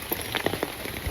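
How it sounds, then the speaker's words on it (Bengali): Steady rain falls on a village home, a dense, even patter with scattered louder drops close by, continuous throughout and with no voices over it. "বৃষ্টির শব্দে ঘরে যদি থাকি সারাদিন ডাকলেও তো শোনা যায় না"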